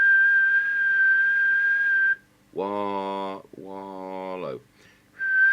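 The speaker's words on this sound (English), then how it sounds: "Just do the quick whistle test." A steady, clear whistle tone goes into an LCL Economy UK CB 27/81 mobile radio transmitter during alignment; it stops for a short spoken word and then resumes at the end.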